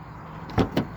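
A stuck car door is forced open with two heavy, close thuds about a fifth of a second apart, in an otherwise quiet car interior.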